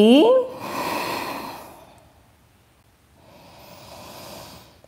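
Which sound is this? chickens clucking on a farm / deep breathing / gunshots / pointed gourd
deep breathing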